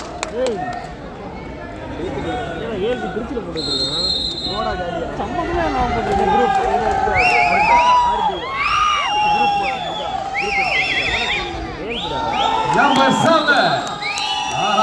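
Crowd at a Saidapet kabaddi tournament quarterfinal cheering and shouting in waves, with loud, layered voices and whistles, while an announcer speaks over the noise.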